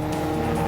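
A Porsche racing car on a track drones with a steady, close engine note as it brakes into a banked bowl section during a historic motor race, a brief continuous burst with no talk.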